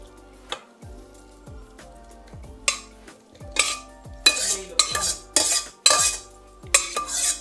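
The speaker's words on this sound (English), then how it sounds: "scooping the hot soup into here" A spoon or ladle clinks against a pot and a blender jar while hot soup is scooped in, giving a series of sharp metallic taps and scrapes that grow busier toward the end, with no voices.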